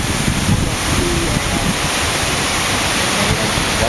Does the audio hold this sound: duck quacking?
no